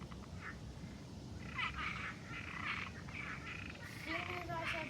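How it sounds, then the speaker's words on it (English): Frogs croak in a natural outdoor setting, a run of short rough calls repeating through steady ambient noise, with faint voices nearby. "Is there a frog there?"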